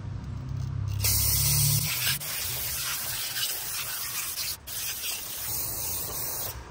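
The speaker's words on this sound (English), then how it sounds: "I just went with brake clean and just went down like that." Brake cleaner sprayed onto engine parts of a Mitsubishi Evo X 4B11T short block: a loud, close, continuous aerosol hiss that carries steadily for several seconds with brief pauses.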